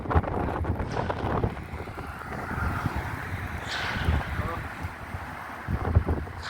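Strong night wind in a sandstorm roars steadily with gusty, rumbling buffeting against the microphone, a continuous broadband rush that never lets up.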